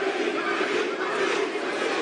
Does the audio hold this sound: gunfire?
no